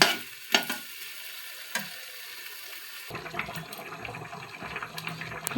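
Water poured into a pan of potato curry as it cooks, a sharp sizzle and splash followed by steady bubbling and crackling close by, with no talking.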